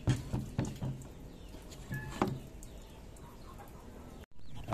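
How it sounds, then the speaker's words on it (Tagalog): Chickens and chicks cluck and peep in a backyard garden, a few close calls over outdoor background noise, with a brief dropout near the end. "Oh, may mga sisiw pa dito."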